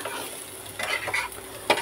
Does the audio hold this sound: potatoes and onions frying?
yes